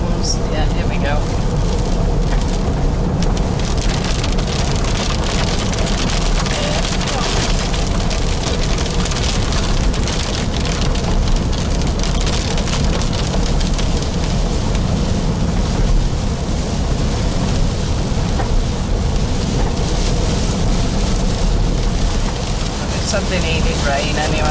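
Rain during a road trip through outback Australia, a dense broadband hiss and patter mixed with road and wind rumble, loud and continuous from start to finish.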